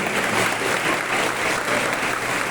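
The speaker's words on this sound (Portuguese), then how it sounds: "Dá uma salva de palmas ao Senhor Jesus." A church congregation at a baptism service claps in dense, steady applause, loud and close, holding evenly throughout without talk.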